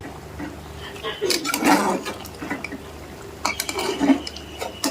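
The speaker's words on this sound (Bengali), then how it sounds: "পনেরো মিনিট পরে ঢাকনা খুলে নিয়েছি এবারে নেড়ে দেবো" A pot lid is lifted off Bihari-style handi chicken with potatoes and the contents are stirred, giving clattering metal knocks and scrapes against the pot at close range, mixed with faint bubbling.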